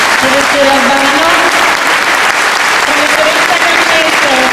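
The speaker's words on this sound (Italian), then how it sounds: "un applauso" Sustained audience applause fills a commemoration ceremony marking the anniversary of the Capaci massacre, steady and loud throughout, with a voice audible through the clapping.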